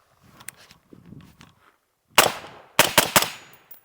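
Suppressed 5.56 rifle fired with a Q Southpaw suppressor on a shooting range: one sharp report, then a quick cluster of three more closely spaced shots, loud and near, after some faint quiet shuffling.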